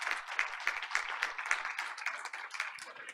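At a Board of Education meeting, a room of people claps for a proud mother, a modest, fairly quiet round of applause with a few sharper individual claps.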